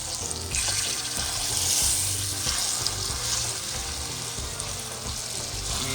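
A pot roast sears in a hot pan with a loud continuous sizzle and spatter, close up and unbroken, with faint stirring and handling underneath.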